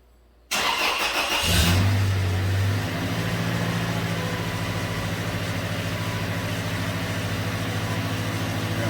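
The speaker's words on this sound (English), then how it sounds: "And we're going to start it up." A 2011 Toyota Tacoma with the 2.7 engine, cold and with an overheating fault on the highway, cranks briefly and catches after about a second, then settles into a steady, close idle running alone.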